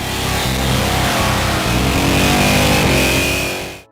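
Chrysler 426 Hemi V8 in a muscle car revving, a loud, close, sustained rumble that climbs and holds in pitch before cutting off abruptly at the end.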